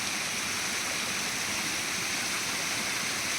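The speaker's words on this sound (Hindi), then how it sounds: "तो ये नाला ऊपर से बह रहा है।" A mountain stream in a Himachal village pours over a path, making a steady, loud broadband rush like a small waterfall. The sound is continuous and close, with no voices.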